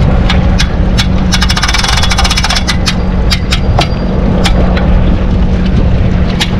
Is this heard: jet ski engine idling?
yes